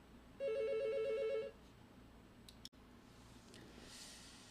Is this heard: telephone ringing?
yes